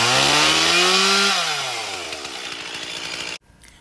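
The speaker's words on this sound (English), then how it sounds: "you want your chainsaw really revving" A chainsaw set up on a chainsaw mill revs loudly, then its pitch drops as it winds down before cutting off abruptly near the end.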